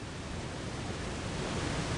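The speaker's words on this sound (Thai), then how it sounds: "น้ำตกลงมาจากผาที่สูงชันถึง 7 เมตร" The Takinohai waterfall on the Koza River, dropping seven metres from a steep cliff, makes a steady, dense roar of falling water, constant and unbroken with no voices.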